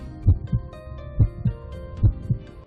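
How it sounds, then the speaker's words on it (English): A heartbeat, the pumping of the heart, thumps in a steady lub-dub rhythm with three paired beats over a faint hum. "The pumping of the heart or the heartbeat is caused by alternating contractions and relaxations of the muscles."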